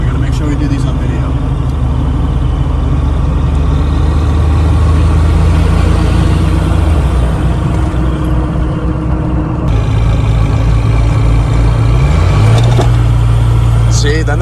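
A Ford King Ranch truck's 5.9L Cummins diesel runs with a steady, loud, deep drone as the turbo kicks in. The tone shifts and rises near the end, with muffled talk underneath.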